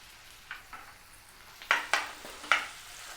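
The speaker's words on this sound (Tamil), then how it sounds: "இந்த ஸ்டேஜில் குடமிளகாயை போட்டுடலாம். இதில் புளியும் போட்டுடலாம், உப்பையும் போட்டுடலாம்." Red capsicum, tomato, tamarind and salt are sautéed in a pan, a soft sizzle broken by several sharp scrapes and knocks of a spatula against the pan.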